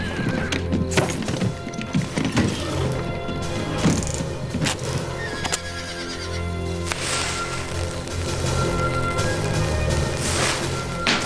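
Horses in a street neigh loudly and repeatedly while hooves clop and thud in a busy, dense rhythm, with wooden knocks mixed through the continuous commotion.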